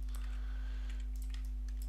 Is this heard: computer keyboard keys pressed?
yes